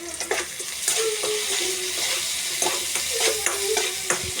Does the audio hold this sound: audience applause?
no